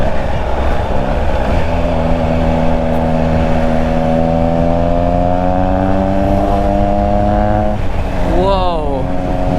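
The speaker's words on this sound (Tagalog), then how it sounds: "sulit ang exhaust. Ang lakas ng tunog." A Triumph Trident 660 motorcycle accelerates in sixth gear, its loud, close exhaust roar climbing steadily in pitch before dropping briefly and rising again near the end.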